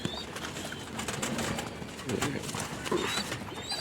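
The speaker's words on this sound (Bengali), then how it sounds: "সব কবুতরই আমার হাতে খায়।" Pigeons gathering to feed from a hand: soft cooing and fluttering nearby with shuffling and light pecking taps, fairly faint and busy throughout.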